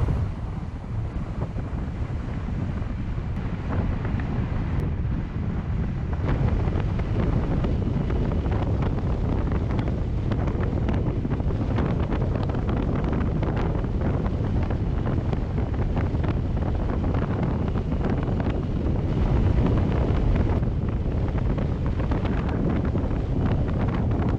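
A car cruises on a highway at about 65 to 70 mph carrying a kayak on a BougeRV roof rack, heard as a steady, loud roar of wind buffeting and road rumble that stays constant with no talk.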